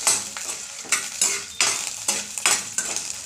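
A spoon repeatedly scrapes and stirs urad dal, chana dal, green chillies and coriander seeds frying in a pan. The rhythmic strokes come about every half second over a soft sizzle, heard close with no talk.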